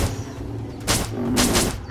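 Gunfire in Animal Revolt Battle Simulator, two loud bursts of shots over a rumbling game background, close and forceful, separated by a brief lull.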